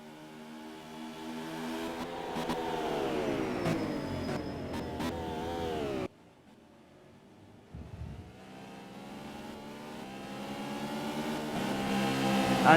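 Racing cars drive at speed at Donington Park during a championship race. Engine notes climb steadily as the cars accelerate past, a short quieter gap breaks it mid-way, and then another car revs up and grows louder.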